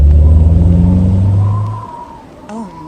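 A car drives in a video game, its engine giving a loud low rumble that drops away partway through, followed by a brief higher-pitched whine near the end, with no talking.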